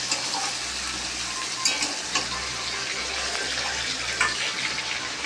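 Chicken pieces fry in hot oil in a pan with turmeric and salt, giving a continuous close sizzle. Periodic scraping knocks come as the meat is stirred, with no voices.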